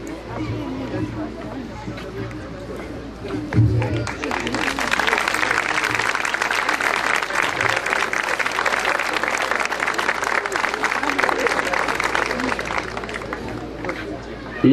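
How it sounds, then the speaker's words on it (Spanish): Sustained applause from a seated audience at a primary school's centenary ceremony, a brief murmur of voices first, then steady dense clapping from about four seconds that holds loud and even to the end. "pero vale, el aplauso para el amigo don Víctor."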